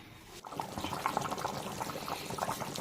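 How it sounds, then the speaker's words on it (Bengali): A pabda fish curry with potatoes and eggplant bubbles in a pan on the stove, a steady close simmering and gurgling that runs continuously with soft popping bursts. "ঝোলটা একদম ফার্স্ট ক্লাস ফুটতে শুরু করেছে"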